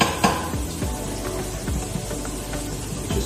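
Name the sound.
mushrooms sizzling in oil in pan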